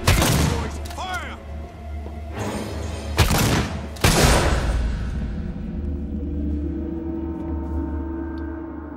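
A group of men open fire in the video game Alien: Isolation, with a few heavy, booming gunshot bursts and rumbling echoes that fade slowly, while a voice speaks over them.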